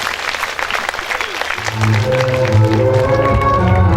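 Audience applause at a stage performance, a crowd clapping steadily at first before music with sustained tones swells in and carries on beneath the fading claps.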